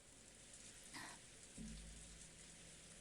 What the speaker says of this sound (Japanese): 雨とうとう降り出したのね。